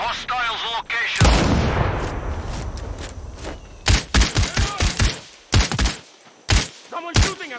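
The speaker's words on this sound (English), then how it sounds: "Someone shooting at us." Gunfire in the video game Sniper Ghost Warrior Contracts 2: a booming shot with a long rolling echo, then a rapid series of sharp, loud cracks in quick succession, with a voice audible near the start.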